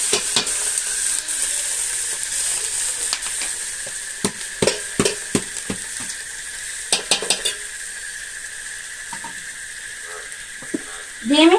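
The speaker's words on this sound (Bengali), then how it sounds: "দিয়ে আমি চালটাকে হালকা ভাজবো" Rice is lightly fried in a pan for pilaf, with a steady sizzle and bursts of spoon scraping and stirring against the pan, close and moderately loud.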